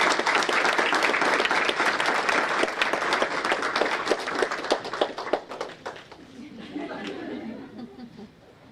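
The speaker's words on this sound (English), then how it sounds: "Let's have a warm round of applause for our November Apple Award recipient" Warm applause from the audience at a school board meeting honoring an elementary school award recipient, dense clapping that thins out toward the end as chuckles and murmured voices come through.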